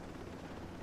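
A helicopter in the video game Ghost Recon Breakpoint whirs on as a faint, continuous rotor and engine drone, with no other sound over it.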